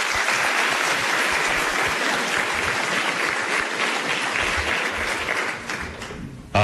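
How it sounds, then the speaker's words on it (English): An audience at a county mayoral forum applauds, a dense, steady round of clapping that fills the room for several seconds before tapering off near the end. "Let's give them a round of applause."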